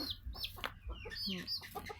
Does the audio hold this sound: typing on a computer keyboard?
no